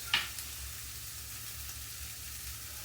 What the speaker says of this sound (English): Sear these.